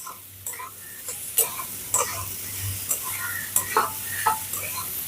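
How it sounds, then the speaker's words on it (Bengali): Onions fry in a pan for a breakfast snack of flour and onion, a steady sizzle broken by repeated scraping stirs that click and knock at a loose, uneven rhythm, close and moderately loud with no talking. "এবারে খুব ভালো করে নেড়ে নেড়ে পেঁয়াজটাকে খুব ভালো করে ভেজে নিতে হবে"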